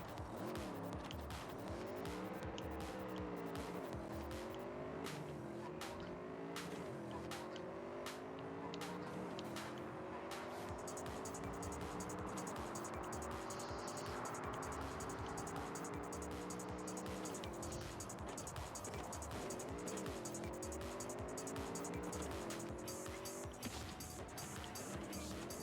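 Dense car traffic at a busy intersection in Cyberpunk 2077, with steady engine drones rising and falling in pitch, layered with tire noise and a continuous loud road wash.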